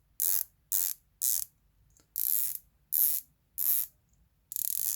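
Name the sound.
Pagani Design PD1661 watch bezel rotating with ratchet clicks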